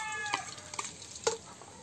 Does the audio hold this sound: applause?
no